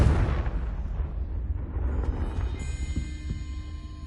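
Confringo fire spell in Hogwarts Legacy: a loud, rumbling explosive blast that decays into a fading roar with a faint ringing tone at the end.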